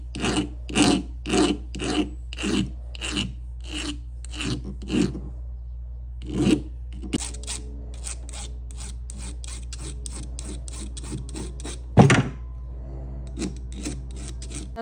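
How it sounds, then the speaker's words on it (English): Silver being shaped with fine hand files for a turquoise ring, heard as a run of close, rhythmic rasping strokes, some short and quick, some longer, with a brief clunk near the end and no talk. "then I switch over to finer files to just make sure that everything is nice and clean as I go"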